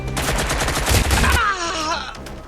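Rapid gunfire from the video game Watch Dogs Legion: a dense, loud burst of shots for just over a second, then fading into ringing game sounds.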